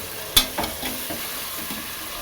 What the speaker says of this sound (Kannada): ಶುಂಠಿ ಮತ್ತು ಬೆಳ್ಳುಳ್ಳಿ, ಪುದೀನ ಇದಿಷ್ಟನ್ನು ಹಾಕ್ಕೊತಾ ಇದ್ದೀನಿ. ಹಾಕ್ಕೊಂಡು ಚೆನ್ನಾಗಿ ಹುರ್ಕೊಬೇಕು.